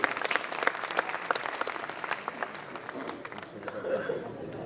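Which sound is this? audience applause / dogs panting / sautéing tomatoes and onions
audience applause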